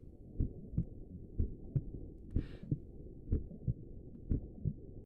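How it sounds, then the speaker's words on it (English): Heartbeat sound effect from a fan-made visual novel game: steady lub-dub thumps, about nine beats in five seconds, low and close, with a brief hiss partway through and no talk. "this heart beating sound effect is uncomfortable"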